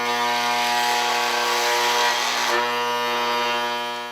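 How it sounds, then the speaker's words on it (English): A saw cutting through a workpiece in a home workshop during a build project, one continuous loud buzzing cut that holds steady for about three seconds before easing off. "I'm just going to use this saw."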